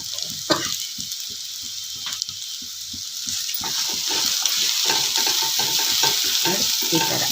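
Aloo paratha filling of mashed potato roasting in a pan, with a steady sizzle and broad hiss under a rapid series of sharp spatula scrapes and taps as it is stirred, close and fairly loud, growing slightly busier toward the end.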